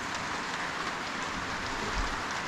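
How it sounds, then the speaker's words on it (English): Heavy rain pours steadily, a dense hiss of drops drumming on surfaces with no pauses. "it is pouring"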